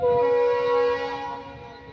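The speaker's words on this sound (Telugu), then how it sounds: "అంతా మన విజయవాడ రైల్వే స్టేషన్ అండి ఇది" A train at the Vijayawada railway station platform gives a long, loud horn blast, a steady tone that holds for about a second and then fades over the platform's background noise.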